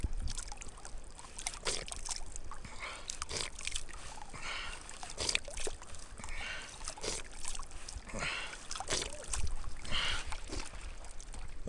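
Water trickling and splashing from a mountain source, an uneven close gurgling with scattered splashes and knocks over outdoor ambience, with voices faintly mixed in.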